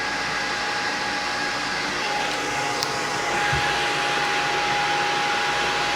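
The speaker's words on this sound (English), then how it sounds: "So this is the air conditioning circulation pump" A boat's air conditioning circulation pump runs in the engine room, giving off a loud, steady mechanical whine and hum with a constant tone that continues unbroken, with no voices.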